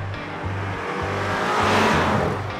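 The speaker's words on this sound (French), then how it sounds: "crépitement à l'échappement qui renforce la sportivité de notre petite furieuse" Exhaust crackle from a small, lively sports car on track near Le Mans: a steady, close engine note broken by repeated low pops and burbles, with the loudness swelling toward the end and no voices.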